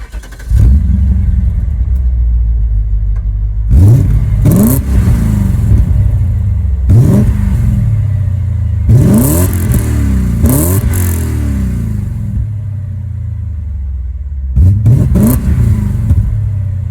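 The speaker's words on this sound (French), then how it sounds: "Là, on est vraiment sur du gros V8 5 litres" A BMW M5 E39 with a 5-litre V8 idles with a deep rumble, then revs hard several times in repeated bursts, loud and close, with the engine note rising and falling on each blip.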